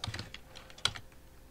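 A handful of quick keyboard taps, followed by one sharper, louder Enter key press near the middle, then a few softer clicks, while working in CAD software.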